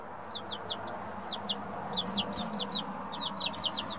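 Silkie hen clucking steadily near her chicks in a backyard pen, with repeated short soft clucks and high peeping from the chicks, fairly close with a low background hum.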